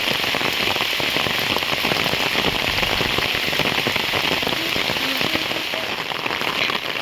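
Heavy, constant monsoon rain in the Konkan drumming on surfaces, a dense steady patter with no pauses throughout.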